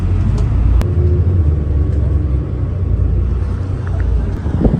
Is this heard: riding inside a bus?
yes